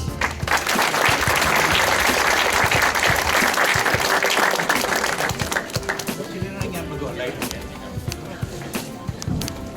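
Audience applause rings out at a felicitation ceremony honouring a guest for his work, steady dense clapping for about five seconds, then thinning into scattered claps as a voice begins speaking.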